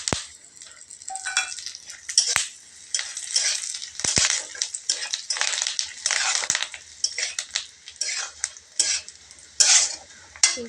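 Curry leaves, fennel and cumin are stirred in a pan with cashews and raisins for a pulao, giving steady scraping and clattering of a spoon against metal over a faint sizzle, close and continuous with no talking.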